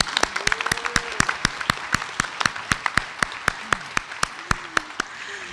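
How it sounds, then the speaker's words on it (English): Scattered applause rises from an audience at a school board meeting as an honoree comes forward, with distinct, sharp individual claps spaced fairly evenly, a few people clapping near the microphone, and faint voices underneath. "let's give her a big round of applause"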